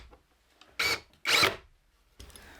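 A power drill drives screws into the legs of a DIY saw horse in two short, loud bursts about half a second apart, with a fainter mechanical rattle trailing after.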